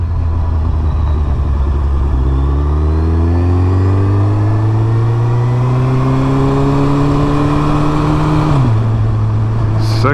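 A 2008 Suzuki Hayabusa motorcycle pulling in second gear after sitting unused for over a year, its engine note rising smoothly and steadily, then dropping briefly near the end, loud and close with wind noise and no talking.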